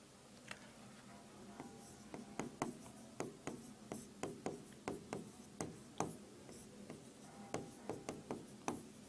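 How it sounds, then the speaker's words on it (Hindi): Chalk or marker strokes on a board as physics equations for the Biot–Savart law are written out, a steady series of sharp taps and scratches with no talk. "अब हम लिखेंगे"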